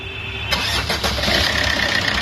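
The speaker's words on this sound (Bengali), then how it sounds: "ইঞ্জিন স্টার্ট করবো। স্টার্ট করো।" A Maruti Suzuki Swift Dzire car engine cranks and fires up about half a second in, then settles into a steady, close running rumble with no voices.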